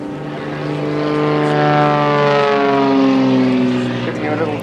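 A propeller aircraft at an air show over Eastbourne drones steadily overhead, its engine tone loud and rising then falling in pitch as it sweeps past, with no other sound competing.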